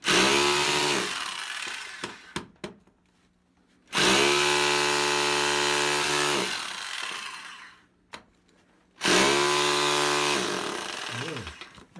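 A Bosch Bulldog Xtreme SDS-Plus rotary hammer drives a point chisel into concrete in three loud, sustained bursts of harsh hammering, with short quiet gaps and brief knocks between them.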